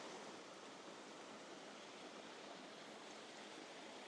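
A waterfall pours steadily into a still pool, its broad even rush of water continuing unbroken and fairly faint throughout with no other sounds.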